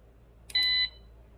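A single short electronic beep from an AWP AID 1000VA/600W UPS after its battery was replaced, a clear steady high tone of about a third of a second over a low background hum, alone with no voices.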